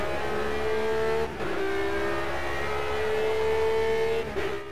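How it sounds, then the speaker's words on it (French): A Radical race car in a racing video game brakes hard at Tamburello; its steady, high engine whine dips twice as it slows, running continuously and close with no talking. "Gros freinage ici à Tamburello."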